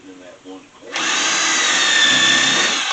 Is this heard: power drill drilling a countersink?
yes